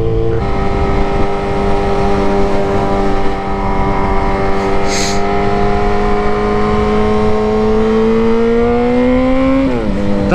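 A Toyota GT86 engine revs hard and steadily from inside the car, a loud sustained tone climbing slowly in pitch for about ten seconds before a sudden dip at the end.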